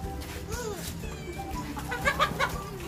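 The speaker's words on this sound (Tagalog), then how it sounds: "Oh my God, may mga manok." Several chickens cluck and chatter nearby in short, uneven bursts, with a few louder squawks toward the end over faint outdoor background noise.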